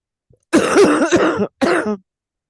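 A person coughs and clears the throat in a close, loud burst, a pause, then another shorter coughing fit; voiced, throaty sounds.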